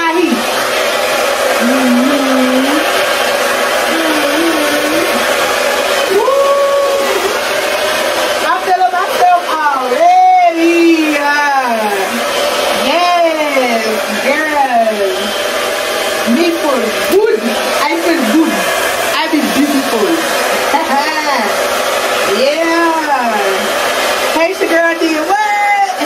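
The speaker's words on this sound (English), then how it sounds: "Oh, she blow dry while it's on now." A hair dryer blows steadily on high heat through the whole stretch, a loud, constant rushing hiss, while someone talks over it in a high, animated voice.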